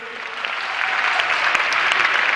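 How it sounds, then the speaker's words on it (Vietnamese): A studio audience at a live Vietnamese TV couple-performance show applauds warmly in a steady, dense wash of clapping that swells slightly and holds, with no voices over it. "Một tràng pháo tay nồng nhiệt nữa cho Phan Anh và Thái Trinh thưa quý vị."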